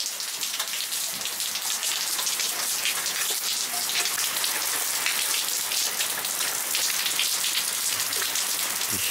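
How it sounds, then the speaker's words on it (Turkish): Steady thunderstorm rain pours down in a forest near İzmir, a dense hiss of drops pattering on a surface, constant and close with no voices. "Gök gürültülü yağmur yağış."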